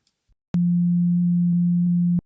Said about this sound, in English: there are now 180 degrees rotated against each other, but both perfect sine waves